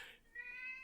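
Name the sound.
cat meowing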